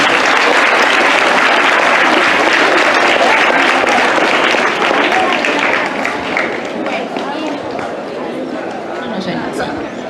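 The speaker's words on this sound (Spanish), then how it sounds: "vamos a darle un aplauso muy grande al profesor Víctor" Loud, dense applause for a professor at a reading plan presentation, a large audience clapping vigorously that slowly thins and softens toward the end, with some chatter mixed in.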